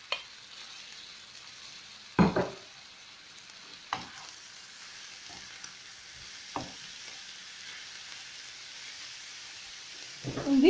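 Grated zucchini and chopped olives fry in a pan with a quiet, steady sizzle, broken by a few sharp stirring clatters at intervals.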